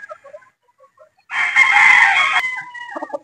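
Boston Roundhead chickens being selected as broodstag and pullet stock: a loud, close rooster crow lasting about a second stands out after scattered soft clucks, followed by further quieter clucking.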